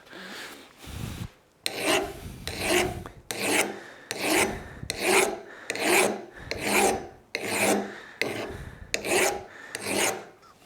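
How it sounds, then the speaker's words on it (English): Splitting axe edge being honed by hand on sharpening stones, a steady rhythm of about ten long rasping strokes, close and clear, with no talking. "but I can still use these stones by hand. So I'll see how sharp I can get this."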